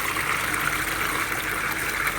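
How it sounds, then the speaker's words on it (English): Water flows and trickles steadily from a running pump into a plywood grow system, a close, continuous gushing wash with no speech. "So now the pump is running,"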